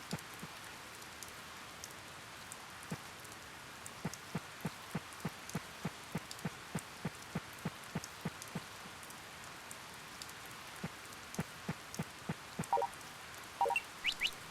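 Steady rainfall on a rainy day in the speedrun game Treasure Hunt II, a soft continuous patter with frequent sharp droplet ticks scattered throughout and no voices.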